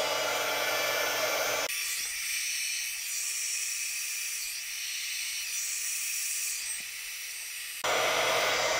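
A heat gun blows a steady, loud hiss across heat shrink tubing slipped over tabbed battery cells for a DIY pack, running continuously for several seconds with no talking.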